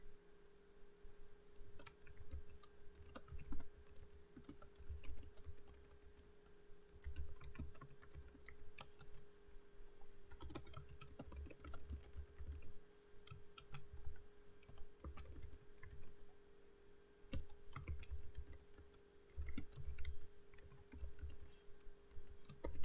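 Computer keyboard typing while mod code for Blade and Sorcery is written: bursts of quick, close key clicks separated by short pauses over a steady low electrical hum, with no voices.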